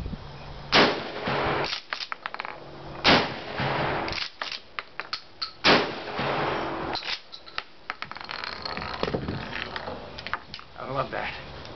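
A Mossberg 500 12-gauge pump shotgun fires three loud, close booms a couple of seconds apart, mixed with metallic clacks of loading and racking, and a voice talks in between.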